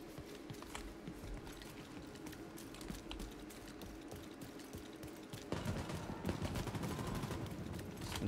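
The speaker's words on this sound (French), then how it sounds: "On tire dessus apparemment." Gunfire in The Division 2 cracks out as rapid bursts of shots, continuous and dense, growing louder and heavier in the final few seconds.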